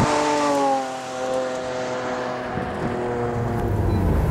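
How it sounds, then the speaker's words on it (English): A 2012 Lamborghini Aventador with a mid-engine V12 is driven around a skid pad, its loud engine note rising and falling in pitch as the throttle changes, with tire and wind noise building toward the end. "I never thought I'd drive a V12 mid-engine Lamborghini and be able to counter steer it around a skid pad"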